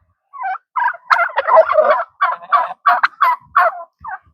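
Farmyard turkeys gobbling, a rapid series of close, loud, rattling gobbles in short bursts with brief gaps between calls.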